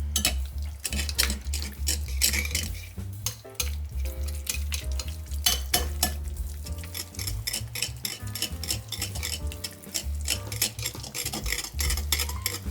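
A spoon or whisk clinks steadily in a bowl as vanilla bean paste is mixed into pumpkin spice muffin batter, an even rhythmic scraping and tapping with no talk.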